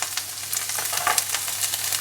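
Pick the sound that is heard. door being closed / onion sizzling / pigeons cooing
onion sizzling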